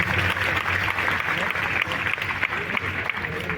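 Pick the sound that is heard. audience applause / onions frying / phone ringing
audience applause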